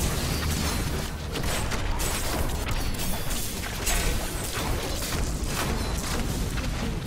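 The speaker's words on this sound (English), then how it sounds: "I can hear the beautiful sounds of Bayo exploding." Dense, continuous explosions and crashing effects in Diablo 3 pile up for several seconds, loud and chaotic with no pauses.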